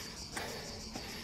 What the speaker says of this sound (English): I can hear cicadas chirping